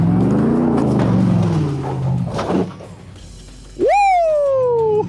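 A Ford Bronco Baja race truck's engine revving hard while driving, a loud sustained roar that swells and falls, close and continuous, with a sharp rising rev near the end.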